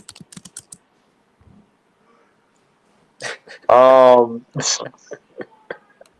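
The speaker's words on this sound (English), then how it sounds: "Who the fuck is typing?" Quick clicks of someone typing on a computer keyboard come in short bursts, with a person speaking and a throat-clearing sound between them.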